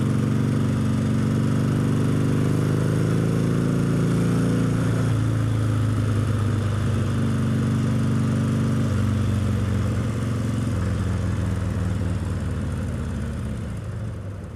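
A motorcycle engine drones steadily at close range while riding, its pitch shifting in stages as if changing gears, easing off toward the end.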